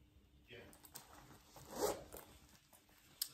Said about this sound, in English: So that would zip up like that.